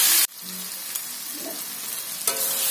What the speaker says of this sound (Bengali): ছোটো ছোটো টুকরো করে কাটা বোনলেস চিকেনটা দিয়ে আমি ভালো করে 10-15 মিনিট কষিয়ে নিয়েছি